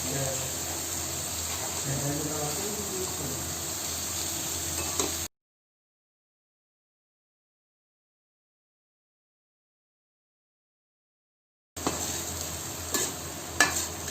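Boiled rice and vegetables stirred together in a pan for restaurant-style veg fried rice, a steady scraping and sizzling for about five seconds, then silence, then the sizzle returning with a few sharper clinks near the end.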